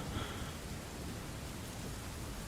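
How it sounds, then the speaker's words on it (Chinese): Steady rain pours down in a dense, even wash of noise, a continuous hiss of drops hitting surfaces with no voices. "下雨了"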